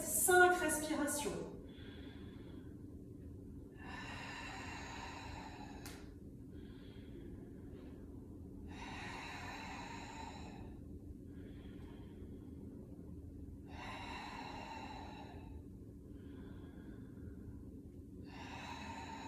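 Heavy breathing while holding a Pilates plank: several slow, audible exhalations and inhalations spaced a few seconds apart, close and breathy over a low steady hum.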